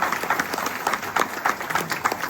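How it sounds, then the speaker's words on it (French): An audience applauds at a decarbonised aviation event, a steady patter of many hands clapping at moderate distance and fairly low volume. "Je pense que vous pouvez l'applaudir très très fort"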